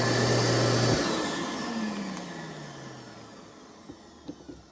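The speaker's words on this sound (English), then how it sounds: "Now it's vacuuming." A vacuum cleaner with a newly replaced motor runs after a reset, a steady close drone whose pitch slides downward as it settles, with a few faint knocks near the end.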